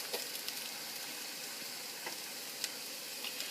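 Chopped onion and garlic sweat in a hot pan, giving a soft, steady sizzle and crackle with occasional faint ticks.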